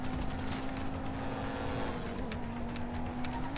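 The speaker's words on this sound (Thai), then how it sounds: "พี่ เฮลิคอปเตอร์มาว่ะ" Helicopter in the game GTA Online droning steadily with a constant rotor hum and a sustained engine tone, loud and close throughout, with faint sharp pops on top.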